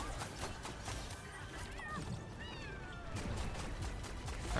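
Jetpack Cat in Overwatch gives a few short meows amid ongoing game noise and effects, moderately loud and partly masked by the action.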